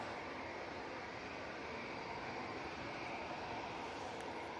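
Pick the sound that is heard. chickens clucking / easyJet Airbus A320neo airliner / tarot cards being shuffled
easyJet Airbus A320neo airliner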